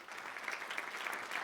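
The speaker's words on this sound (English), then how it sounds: "once again, big round of applause for them" Applause from an awards ceremony audience, a brief steady patter of many hands clapping, moderately faint and even throughout.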